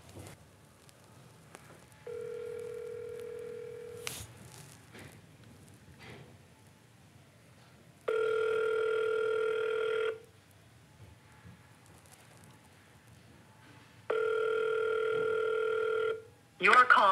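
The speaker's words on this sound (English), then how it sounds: "Oh, it's a bit late to be phoning Ryan Dungey." A telephone call rings out, with three long ringback tones at even intervals, alone and fairly clear, and a brief click near the end.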